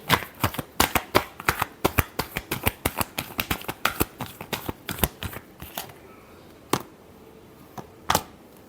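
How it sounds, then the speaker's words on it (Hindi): Tarot cards are shuffled in quick, crisp riffles, a fast run of sharp snaps up close. The snaps thin out to a few scattered taps and then fall quiet. "Last shuffle."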